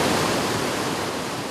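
A small waterfall at a national park pours with a steady, dense rush of white water that fills the whole moment at an even, fairly loud level, with no voices.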